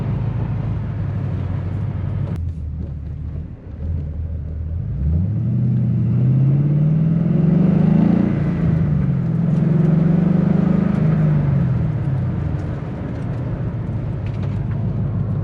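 An LS7-swapped Mazda RX7 FD with a T56 gearbox and Tick short shifter, its V8 engine droning loud and close inside the cabin, dipping briefly at a gear change and then rising and falling as it pulls through the next gear.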